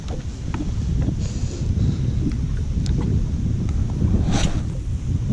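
Steady wind buffets the microphone outdoors while tube jig fishing for tiger trout from a boat near bulrushes, a loud constant low rumble with faint knocks and small clicks.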